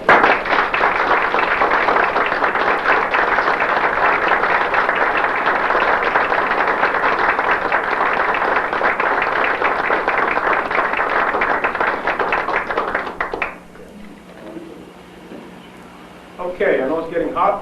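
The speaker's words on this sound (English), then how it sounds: "I think we owe Burkoff a real good round of applause" Applause at a military retirement ceremony for a chief master sergeant, a sustained, dense round of clapping from a gathered crowd in a warm indoor room, lasting over ten seconds before cutting off abruptly into quieter room sound and a voice.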